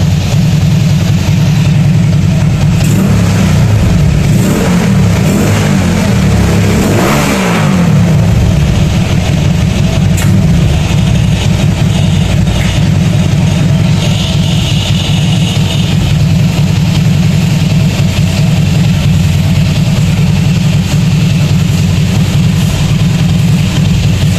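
A Honda CB motorcycle engine runs loud and close, with a heavy low drone that swells in a rev around the middle of the clip before settling back into a steady idle.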